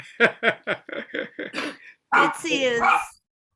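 A small dog yaps in a quick run of about seven sharp, close barks, followed by a longer whiny, yelping vocal burst.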